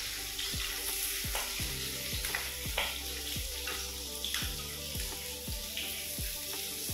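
Chopped onions sizzling and frying in a pan with chilli oil and oyster sauce for a sweet and sour fish sauce, constant close crackle with regular scraping stirs roughly every half second, no voices.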